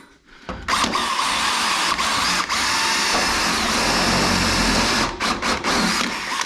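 A loud, close power drill with a cone cutter bit whirs steadily as it bites into plastic, starting and stopping briefly near the end.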